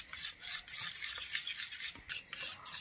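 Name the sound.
stirring turmeric into batter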